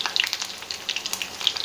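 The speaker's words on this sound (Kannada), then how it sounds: "ಕರಿಬೇವಿನ ಸೊಪ್ಪು." Curry leaves drop into hot oil with mustard seeds, cumin and garlic, a short burst of crackling and spitting pops over a steady close sizzle, no voices.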